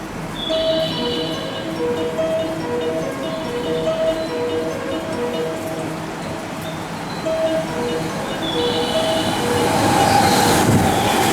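A JR West train passing through platform 3 at Suita Station on the Kyoto Line, a loud sustained rumble with rhythmic clatter of wheels, high squealing tones, and chiming platform announcements, growing heavier toward the end.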